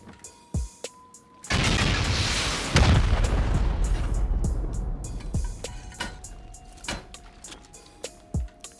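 Rocket blasts in the video game Rust hit the back of a high-quality metal underwater bunker base in the ocean: a sudden loud booming roar that rumbles for several seconds and then decays, with scattered sharp thuds and impacts around it.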